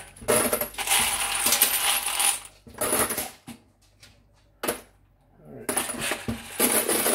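Fired range brass cartridge cases clinking and rattling into a wet tumbler, in loud bursts of metallic jingling separated by brief quieter pauses.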